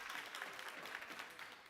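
Audience in a meeting room at a homelessness summit claps briefly, a faint steady patter of hands with little else over it.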